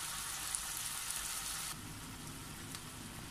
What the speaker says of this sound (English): Ayan siya guys, pag kumulo na siya